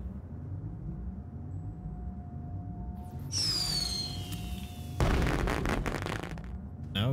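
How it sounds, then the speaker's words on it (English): Fireworks bursting in the space game Astroneer, a whistling rise followed by a loud booming burst and crackling, with a second heavy explosion and fizzing tail, no talk over it. "Oh my goodness, more fireworks."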